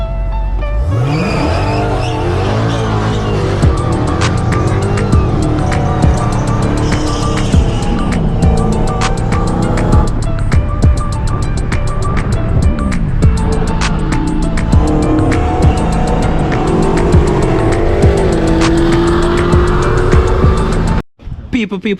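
A Dodge Hellcat doing a burnout roars loudly and continuously close by, its engine revs rising and falling while the tires squeal throughout. The noise cuts off abruptly near the end.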